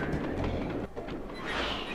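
A rumbling train in the Sly 2 video game rolls along at moderate volume, a low steady rail drone with a brief dip midway and a brighter rush near the end.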